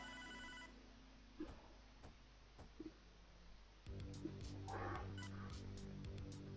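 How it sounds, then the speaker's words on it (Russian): Telephone ringing in the video game Hotline Miami 2: a short electronic ring at the start, then sparse clicks and thumps, followed by a louder rhythmic synth music bed. No speech is heard. "Телефон, ты не ответишь."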